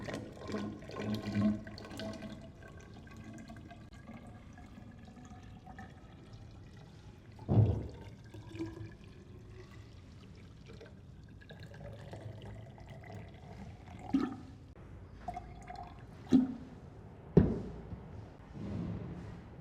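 Water being poured into a laboratory measuring cylinder up to the 1000 ml mark during a hydrometer soil test, a quiet, steady trickle with a few louder splashes and knocks near the end, no talking.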